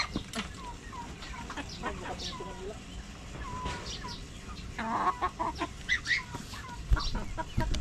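Chickens in a backyard, a hen and a rooster, give scattered clucks and short calls. The sounds are fairly faint and close, with light rustling and outdoor background noise between them.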